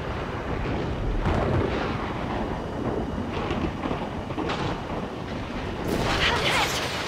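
An explosion of a missile striking a fighter jet in the air-combat game Ace Combat 7, a loud sustained roar and rumble with a burst of crackle near the end, under a dense wash of engine and combat noise with voices.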